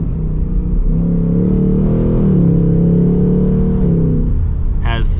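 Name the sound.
Ford Mustang GT V8 exhaust in track mode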